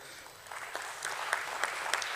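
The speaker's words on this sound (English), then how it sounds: "We can have a round of applause." Audience applause at a stock exchange listing ceremony, starting light and building into steady clapping with some louder, sharper claps standing out near the end.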